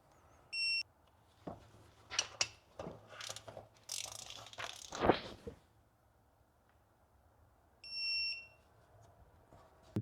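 A torque wrench tightens a BMW QMVH transmission drain plug to 50 Newton meters, with a burst of quick ratcheting clicks and metallic handling. Short electronic beeps sound near the start and again near the end, in a quiet room.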